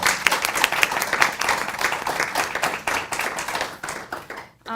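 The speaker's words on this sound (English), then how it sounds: "if you would join me in a round of applause for our panelists" A panel discussion audience claps for its panelists, a brisk, even round of many hands that holds steady, tapers off and stops abruptly near the end, where a voice begins.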